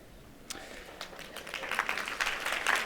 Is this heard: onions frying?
no